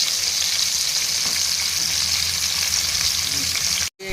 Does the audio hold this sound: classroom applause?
no